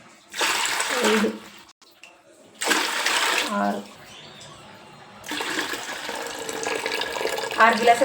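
Water is poured from glasses into a cooking pot, three separate splashing pours with short gaps between them, close and loud, with a faint voice in the background.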